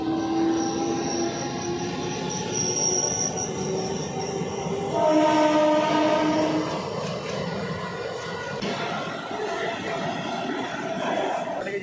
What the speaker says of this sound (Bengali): তো একটা ট্রেন আসছে এখন যাচ্ছে